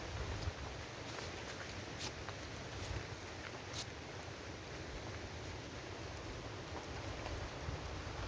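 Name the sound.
rain falling in the hills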